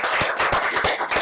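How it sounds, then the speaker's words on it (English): Applause from an audience at a clinical research event, sharp claps in a steady uneven patter, fairly loud and close, short burst with no talking over it. "he deserves like many rounds of applause"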